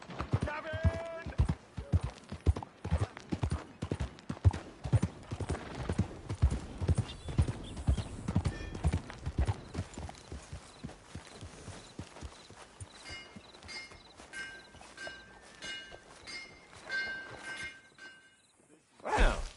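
Horse hooves clip-clop in a video game at a steady walking rhythm, loud and close at first, then thinning and fading toward the end, with a faint ringing tone near the close.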